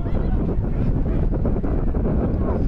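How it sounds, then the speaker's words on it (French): A violent, gusty wind buffets an outdoor microphone at a sports ground in Nîmes, producing a constant loud, rough rumble with fluttering bursts throughout, no other sound standing out. "Pas moyen de s'en sortir aujourd'hui, de s'en découvrir de ce vent violent."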